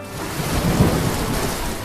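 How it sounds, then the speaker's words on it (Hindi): Steady rain falls with rumbling thunder in a dusky village setting, a continuous wash of downpour with a deep roll swelling near the middle. "तभी बूंदाबांदी होने लगी"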